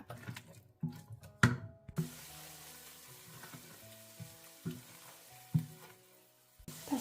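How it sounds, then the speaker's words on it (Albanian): Finely grated onion frying in a pan, a soft steady sizzle broken by occasional knocks and scrapes of stirring, close and fairly quiet with no talk. "Vazhdojmë e fërgojmë qepën për 3-4 minuta derisa të zbutet pak."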